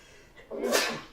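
A single sharp sneeze, close and fairly loud, preceded by a short quick intake of breath.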